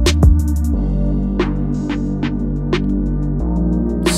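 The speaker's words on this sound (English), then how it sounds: "automate this band so it gradually reduces or decreases that underwater effect over time" A produced beat plays with steady bass and drum hits, muffled by a high-cut EQ giving an underwater effect that is automated to fade out gradually, so the sound brightens over a few seconds; nobody talks.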